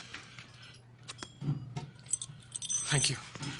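A set of keys jangles in brief metallic bursts as it is handed over, faint and close, with people speaking briefly around it.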